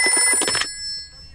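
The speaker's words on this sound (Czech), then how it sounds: "Tady je doktor Huňáč, kdo volá?" A cartoon telephone bell rings in a quick burst of repeated trills, bright and close, then cuts off into near silence.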